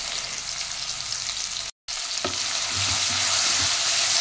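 Long potato strips frying in hot oil with salt and turmeric, a steady close sizzle with occasional stirring, briefly cut out before resuming louder.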